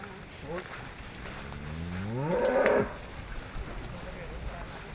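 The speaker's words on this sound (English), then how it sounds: "Whenever the lasso is placed on the cow's neck, the other men have to jump in to help Montik out" A cow gives one long, loud, rising moo in an enclosure during a cattle roundup of the Nafe tribe in Vanuatu, set against steady outdoor background noise.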